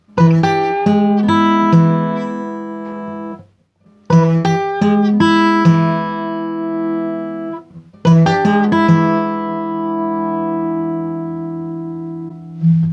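A plucked fingerstyle guitar phrase from Deep River Blues played three times, each run of quick picked notes ending on a ringing, sustained chord that fades, clear and close.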